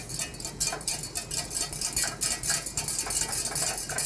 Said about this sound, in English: we add our cold beurre fondue into the pot, slowly incorporating it and whisking continuously